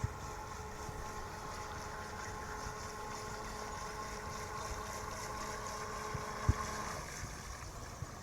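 A remote-controlled carp fishing bait boat (Assistant model) runs its motor near the shore, giving a steady, continuous whir with wind noise over the water. A single brief knock sounds near the end.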